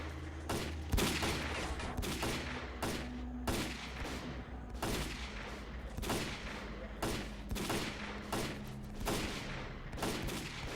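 Rapid bursts of gunfire crack out repeatedly in S.T.A.L.K.E.R.: Call of Pripyat, with close, sharp volleys spaced in irregular clusters during a firefight with mercenaries.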